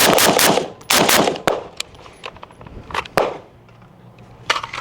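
A California-compliant featureless SIG Sauer M400 Tread V2 rifle fires from a 10-round magazine: several loud, close shots, some in quick clusters and others spaced out, with echoing decay between them.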